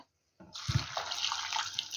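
Hot water pours over small chopped mushrooms in a kitchen, a steady splashing stream starting after a brief silence and continuing close and moderately loud.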